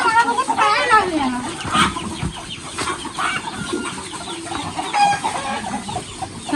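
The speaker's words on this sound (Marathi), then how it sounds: "अरे कोंबड्या मला बघत काय लागल्या." Village chickens cluck and crow close by in a farmyard, busy overlapping calls throughout, with a person's voice mixed in among them.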